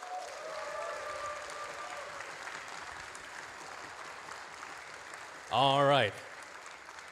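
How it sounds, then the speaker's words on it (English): Audience applause at a Star Citizen convention ship-racing event, a short, loud burst of clapping near the end, after sustained electronic music and a brief spoken line. "Can we get a round of applause, please, for CIG?"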